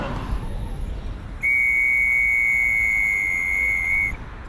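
A single long, shrill trench whistle blast holds steady for about three seconds over a hushed outdoor background, then cuts off.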